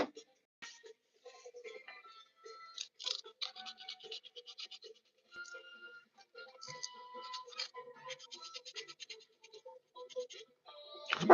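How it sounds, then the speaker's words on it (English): Sandpaper rubbed over a custom painted figure, a dry, close scratching in short irregular strokes with brief pauses between passes. "That's not where I wanted to sand."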